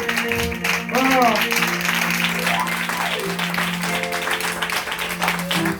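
A church congregation applauding and acclaiming Jesus, steady clapping and cheering running throughout under a sustained musical drone, with voices and sung or shouted tones rising over it.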